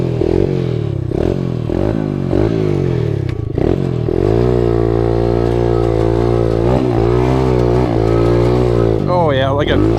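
An SSR125 pit bike engine revs loudly and close, rising and falling in repeated blips before holding a sustained high pitch. A person talks over the engine.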